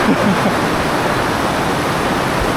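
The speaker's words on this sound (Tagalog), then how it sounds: "Sobrang lakas ng ulan." Heavy rain pours down steadily outdoors at Universal Studios Singapore, a dense, loud, unbroken roar of falling water that fills everything with no voices audible.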